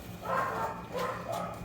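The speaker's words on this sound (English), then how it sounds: "you're going to hear dog barking in the background." Dog barking in the background of a home bike workshop during a cassette upgrade, a few muffled barks in quick bursts, moderately distant, with no talk over them.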